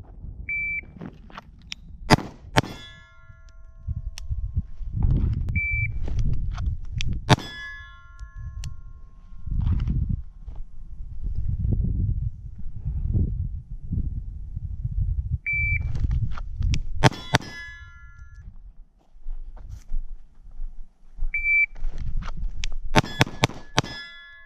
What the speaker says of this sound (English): I'll also roll in some footage here of me shooting at the range with the GoPro, of shooting at my steel plate and some hitting and some not hitting.